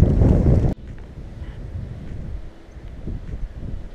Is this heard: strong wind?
yes